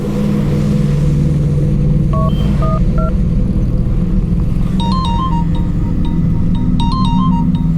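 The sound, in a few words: telephone ringing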